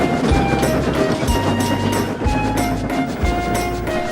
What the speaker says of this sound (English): Henry was making a very loud clanking sound